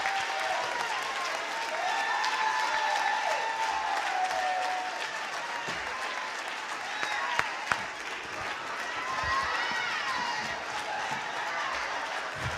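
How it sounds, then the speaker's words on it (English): Sustained audience applause fills a church hall after student orators from the New Jersey Orators perform, a dense, even wash of many hands clapping with faint crowd noise and no clear speech. "let's give both of our students a round of applause for a job well done"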